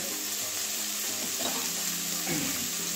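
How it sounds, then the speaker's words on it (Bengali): Cauliflower and onion fry together in a pan with a steady, close sizzle and crackle that holds throughout, with a few faint stirring scrapes. "তো এই যে এটা আবারও পেঁয়াজ দিয়ে ভাজা করছি"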